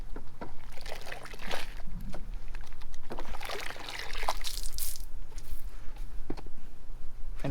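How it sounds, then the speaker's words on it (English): Washing brush swished and rinsed in a bucket of water during a hand wash of an Alfa Romeo 4C, with irregular splashing and trickling close by over a steady low hum. "And then rinse it off."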